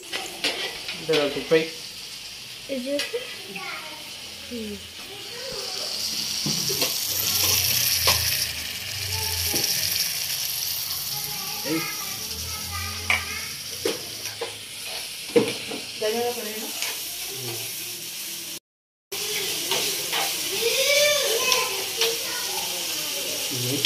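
Tomato rice sizzles and fries in a pan with a steady hiss, broken by clinks and scrapes of stirring, while voices talk intermittently over it.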